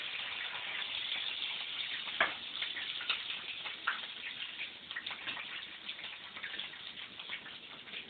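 Bacon frying in a pan crackles and pops softly and steadily, with scattered sharper ticks, fairly quiet and heard without talk.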